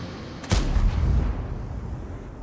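A single heavy cannon shot from a tank in World of Tanks booms close and loud, then trails off into a rumbling low tail.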